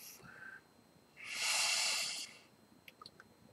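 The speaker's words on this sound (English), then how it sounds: "Cheers and enjoy and sniff it." A person sniffs the aroma of a New England-style hazy double IPA beer, giving one long, close, breathy inhale lasting about a second, with a few faint clicks after it.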